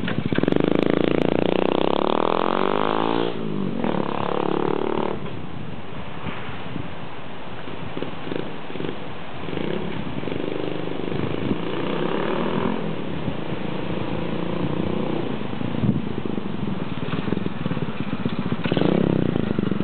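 Honda Cub clone motorcycle engine with a homebuilt muffler idling and revving nearby, a steady raspy putter that swells at the start and continues without talking.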